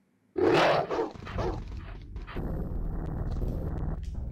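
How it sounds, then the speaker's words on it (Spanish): Dogs bark and growl in the PC horror game Alone in the Dark: The New Nightmare, a couple of loud close barks followed by a low sustained growling rumble that continues to the end. "Se oyen perros muy cerca."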